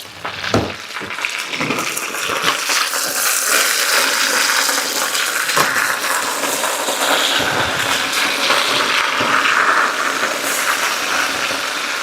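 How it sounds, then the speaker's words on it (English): Potatoes frying in oil in a pan while being stirred, a steady broad sizzle throughout with scattered scraping clicks from the utensil near the start and middle. "All right, let's give these another stir."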